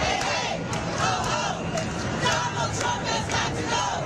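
A large protest crowd at a No Kings Day rally chants and shouts in rhythmic, swelling waves of massed voices, loud and reverberant, with no single voice standing out.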